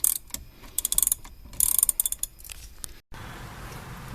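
A ratchet backing out the brake caliper bolts on a Chrysler Sebring convertible, giving rapid close clicking bursts in several runs, then a brief silence and a steady hiss.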